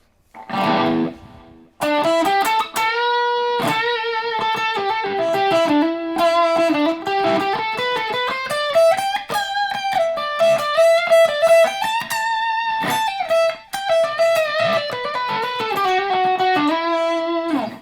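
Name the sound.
electric guitar lead tone with effects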